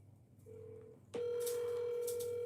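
A telephone call being placed: a short tone, then a steady ringback or dial tone that carries on to the end of the clip, heard alone with no talk.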